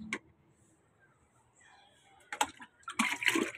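Water poured by hand into a washing machine during a laundry load, heard as short splashing bursts near the end after a quiet stretch.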